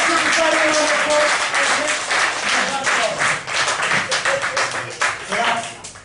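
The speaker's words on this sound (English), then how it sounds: "Let's give the star a round of applause." Audience gives a round of applause at a live comedy mind-reading show, with dense, sustained clapping from a crowd that stays loud throughout and begins to thin toward the end.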